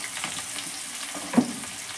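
Onions hitting hot oil seasoned with asafoetida, giving a steady broadband sizzle with a brief louder crackle near the end, close and alone with no talk.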